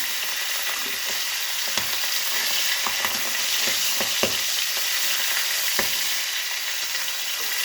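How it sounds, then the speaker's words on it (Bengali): Tengra fish frying in oil in a wok, a constant loud sizzle broken by repeated sharp pops and spatters, close up and with no talking. "মাছগুলো একটু ফটফট করে থাকে, ওই জন্য একটু দূরে থাকা দরকার"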